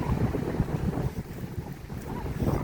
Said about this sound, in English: It's windy and cool.